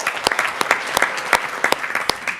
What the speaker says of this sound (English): 2019 Classified Champion Award winners a round of applause